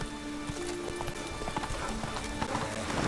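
Roach the horse galloping in The Witcher 3, a quick continuous patter of hoofbeats over a dense bed of game sound, with brief talk mixed in.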